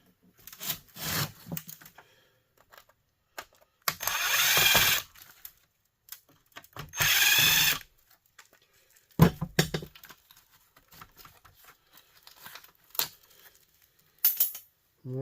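A power screwdriver backs screws out of a scrapped electric heater that shorted out, giving two distinct whirring bursts a few seconds apart, scattered clicks and clatter of parts between them, and a final short buzz, with no talking.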